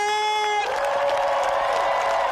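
A crowd gathered for a march outside a Portland convention center roars and cheers loudly and steadily, with a single shouting voice briefly heard over it at the start before the dense cheering takes over.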